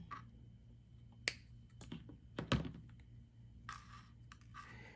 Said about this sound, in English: You're going to snip it right here.